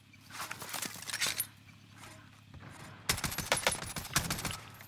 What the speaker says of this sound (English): This is his buddy shooting at me too.